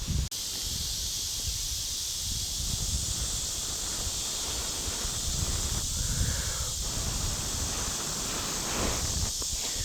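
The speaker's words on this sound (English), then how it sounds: "then we just basically blow it into a flame" Breath blows a smoldering tinder bundle into flame outdoors in wind, a loud, steady rushing hiss of air and wind noise with faint rustling throughout.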